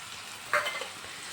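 A masala of ginger, green chili, garlic, onion and tomato fries in a pan, a soft steady sizzle with one brief scrape of stirring near the middle, faint and close without talk.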